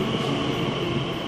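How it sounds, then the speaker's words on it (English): A train pulls into a station platform with a steady, loud rumble of wheels and carriages, and no voices over it. "Trains coming from central London come directly into the platform where we are."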